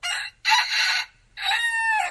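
A rooster crows loudly three times in quick succession, each call a drawn-out, strained cry with short pauses between.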